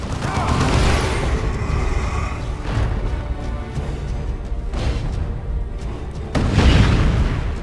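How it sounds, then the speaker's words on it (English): A heavy cannon blast from an Eldar Fire Prism grav tank in the Dawn of War 2 video game, with deep booming bursts repeating amid dense battle noise, loud and close, with a big final boom near the end. "That cannon blew open the gate."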